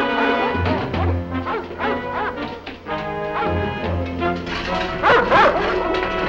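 Dogs in a scene from the 1960s TV series Honey West bark, yip and whimper in loud, overlapping bursts over a musical score.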